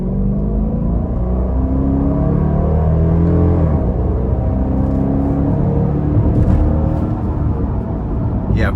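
A 2024 Dodge Durango R/T SUV accelerates hard, its engine a loud, steady low rumble rising through the gears from inside the cabin, with no talking over it.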